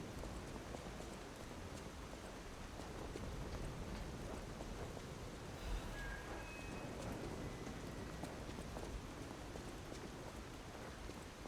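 Steady rain hisses and patters across surfaces in a video game scene, a dense, even downpour filling the whole stretch with no voices heard.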